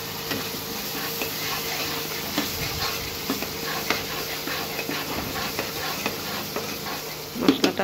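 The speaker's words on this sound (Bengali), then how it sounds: "মশলাটা কষানো হোক ভালো করে।" Ground spice paste with turmeric and salt fries in a pan, a steady moderate sizzle and hiss with soft stirring scrapes, and a few louder knocks at the very end.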